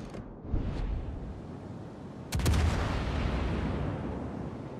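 Battleship guns in a naval video game, the West Virginia, fire on a target: two heavy booming blasts with sharp onsets, the second larger, each followed by a long rumbling decay over ambient sea noise.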